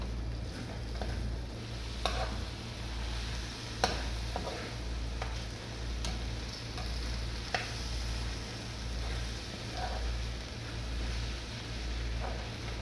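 Okra and onion frying in a pan with the lid lifted for stirring, giving a steady close sizzle broken by a few sharp scraping clicks from the stirring spoon.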